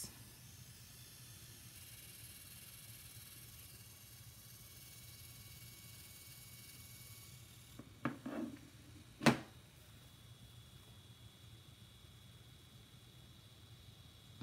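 An HP Sprocket Plus photo printer printing: a faint steady hiss and hum, then around the eighth second a short burst of whirring and a sharp mechanical click, before the quiet hum returns.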